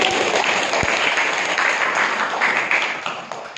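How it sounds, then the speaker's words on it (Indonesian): A classroom audience applauds together, a dense, steady wash of hand clapping that holds for several seconds before gradually thinning out. "kita kasih tepuk tangan dulu"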